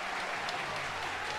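Football fans at a Catarinense 2024 match between Internacional and Barra applaud, a dense, even patter of clapping filling the stadium without pause.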